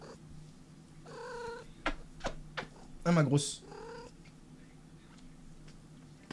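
A cat meows and purrs close by in a series of short, strained calls under a soft steady purr. A person speaks briefly.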